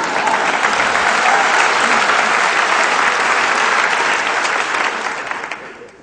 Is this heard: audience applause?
yes